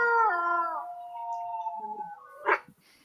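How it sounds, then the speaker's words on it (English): A long, wavering wolf howl in the distance slowly falls in pitch before fading, followed by a short sharp burst of noise. "A wolf howls again in the distance."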